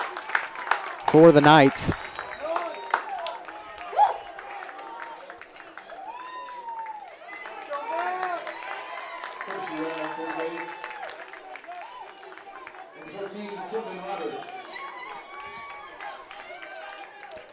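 Baseball crowd at a state quarterfinal, Trinity Academy Knights fans against Columbus Titans, cheering and clapping after a good hit, with a burst of loud clapping near the start and sustained crowd noise under a commentator's voice.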